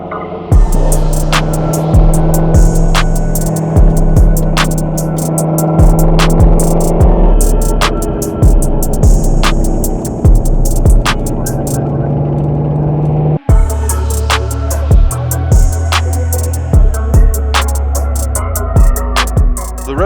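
A Shelby GT350 on a road test, its steady loud engine and road rumble continuing throughout, with rhythmic thumps and a brief dropout partway.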